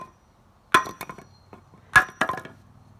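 Sharp hammer blows ring out while building a wooden work surface, two distinct strikes each followed by a few lighter knocks, close and clear against a quiet background.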